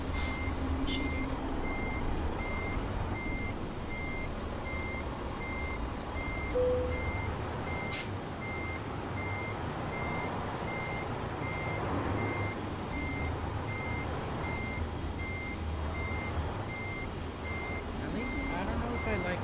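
Repeated reversing beeps from a truck in the American Truck Simulator video game sound steadily and evenly spaced through the whole stretch, over a constant engine drone and other game noise.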